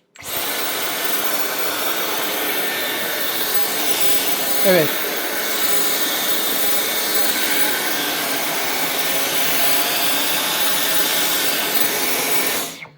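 A Dyson V12 Detect Slim cordless stick vacuum runs on its maximum power mode, giving a loud, steady broadband whine and rush held close for about twelve seconds, with a short voice interjection partway through.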